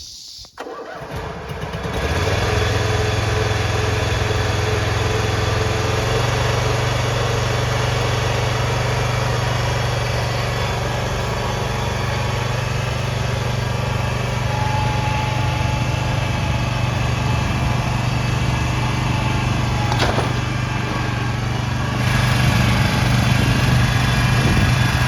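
A used zero-turn lawn mower's small engine running steadily after starting, a loud, continuous droning hum with a rough buzzing edge and a slight rise in intensity near the end; close by, with no talking.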